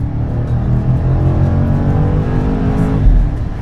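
A BMW M5 G90 pulls hard on an open road. Its engine gives a loud, continuous roar that builds as the car accelerates, with no voices over it.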